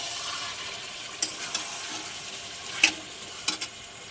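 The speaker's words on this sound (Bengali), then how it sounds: "ভালো করে কষে নেব চিকেন দিয়ে।" Chicken browning in a pan for Bengali chicken biryani, a steady close sizzle with a few sharp scraping clicks of a spoon stirring, no voices.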